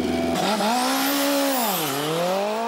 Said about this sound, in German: Die Maschine läuft, der Reifen ist heiß.